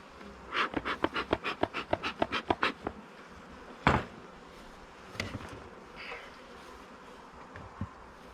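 Honey bees hum and buzz up close around a hive, with a rapid burst of short pulsing buzzes early on, then a lone thud and scattered softer buzzing afterward.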